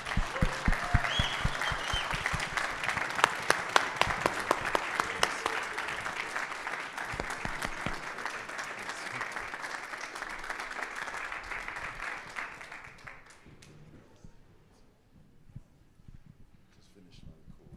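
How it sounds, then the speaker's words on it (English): A large conference audience claps loudly and steadily for several seconds, then the applause fades out to near silence. "Please give him a round of applause."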